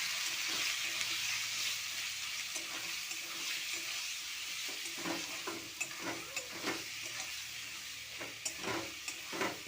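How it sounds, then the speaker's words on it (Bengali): Chicken and cabbage stuffing frying with spices in a pan, a steady broad sizzle with intermittent scraping stir strokes growing more frequent toward the end, close and moderately loud, no voices. "এবার সব মশলা দিয়ে আমি এটাকে ভালো করে কষাবো।"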